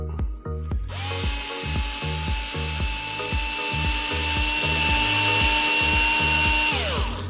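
A powered hex driver turns screws out of an Arrma Talion RC car, giving a rapid, close ratcheting buzz with regular clicks that runs steadily for several seconds and then stops.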